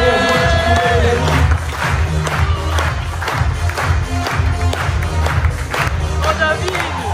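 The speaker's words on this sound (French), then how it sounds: "J'ai nommé Jérémy, David, Dylan, on peut les applaudir très très fort." Audience at a magic convention applauding and cheering loudly, steady dense clapping with shouts and whoops throughout, a voice briefly heard over the crowd.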